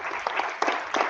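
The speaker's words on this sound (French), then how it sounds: "On peut applaudir aussi." A short burst of audience applause at a French public meeting on cutting energy bills, held for the mayor. It is a brief, dense patter of clapping from a modest crowd, with no voices over it.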